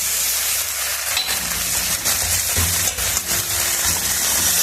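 Ginger and garlic hitting hot oil in a frying pan after peanuts have been fried, a close, steady loud sizzle with stirring scrapes and crackles throughout, no voices.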